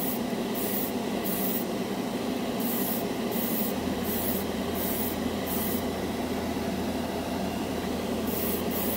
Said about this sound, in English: Well, so far this one is airbrushing well.